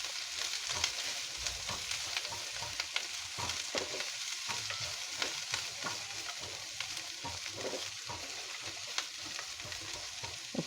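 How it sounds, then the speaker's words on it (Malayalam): Vegetables sauté in a pan for a vegetable stew curry, cooking until lightly browned, with a steady sizzle and repeated close stirring scrapes running through the whole stretch, no voices. "ചെറുതായിട്ടൊന്ന് ലൈറ്റ് ബ്രൗൺ കളർ ആകുന്നിടം വരെ നന്നായിട്ടൊന്ന് വഴറ്റിക്കൊണ്ടിരിക്കുക."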